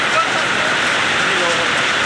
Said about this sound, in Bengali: দেখুন, অনেক বৃষ্টি হচ্ছে